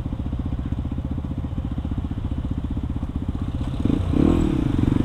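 A four-stroke 250cc enduro motorcycle engine idles nearby with a steady, lumpy throb, swelling briefly louder toward the end, with no talking.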